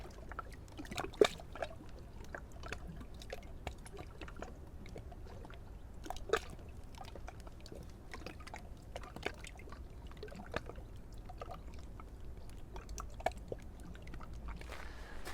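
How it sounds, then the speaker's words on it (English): Lake water gurgles and laps softly at a flooded shoreline of Lake Brienz in Switzerland during a 2021 flood, faint irregular sloshes and small splashes close by with no voices. "I love the sound of the water, das Glucksen."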